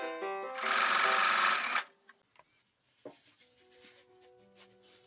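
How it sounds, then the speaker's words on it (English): A sewing machine stitches a belt in a loud whirring burst of about two seconds, then stops, leaving faint clicks and small handling sounds. "And while we are at the sewing machine, let's make the belt as well."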